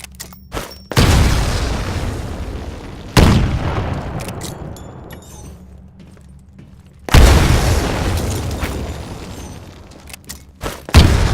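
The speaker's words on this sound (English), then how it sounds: "Throw a grenade into each of the windows." Grenade explosions in the Titanfall video game, three heavy booms spaced a few seconds apart, each loud and close with a long rumbling decay.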